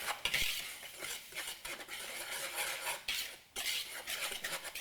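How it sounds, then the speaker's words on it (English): Zucchini bread batter stirred in a bowl, making continuous wet, thick scraping and slapping strokes with brief pauses, close and moderately loud with no talking. "So you just want to mix it up so that the clumps are all gone, but don't over mix it."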